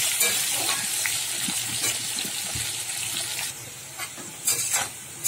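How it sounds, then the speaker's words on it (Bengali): Sliced potatoes seasoned with salt and turmeric frying in hot oil, a dense steady sizzle with stirring scrapes and brief louder bursts near the end. "আলুটা একটু ভেজে নেবো।"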